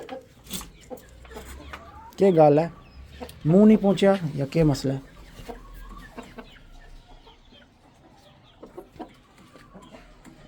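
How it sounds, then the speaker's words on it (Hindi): Hen clucking in bursts, a loud near run around two to five seconds, with someone talking over and between the calls; a stressed, off-feed bird at a poultry keeper's pen. "पीरों वाली यार मुर्गी ने दाना नहीं खाया"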